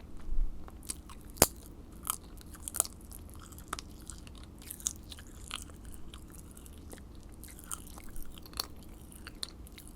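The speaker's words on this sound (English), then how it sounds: "Let's see if they even crackle." Close, quiet chewing of hardened Pop Rocks candy, with irregular small crunches and faint crackling pops scattered through, no talking.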